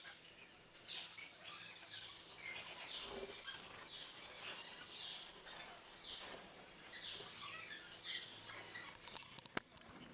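Exotic birds in a breeder's aviary give faint, scattered chirps and calls against a quiet background, with one sharp tap near the end.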